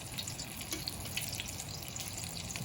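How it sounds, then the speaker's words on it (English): Sauce poured over chiles rellenos, a soft, steady liquid trickle and splash heard faintly and continuously without pause. "We're just gonna pour a little bit over the chiles."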